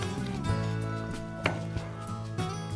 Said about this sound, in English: I like to cut down the sides of it, avoiding all of the seeds in the middle.